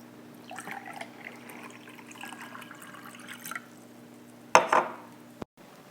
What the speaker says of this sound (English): you're going to pour that into your cup